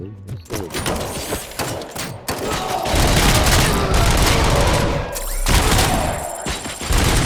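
Video game gunfire in Robocop: Rogue City, heard as a loud, busy barrage of rapid shots, booms and mechanical clatter that keeps going throughout, with a couple of abrupt breaks in the din.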